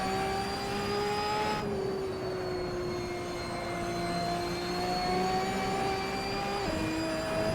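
A race car engine at full throttle in Assetto Corsa, Trofeo Advanced class: a steady, loud, whining drone with rising pitch that drops sharply at two gear shifts.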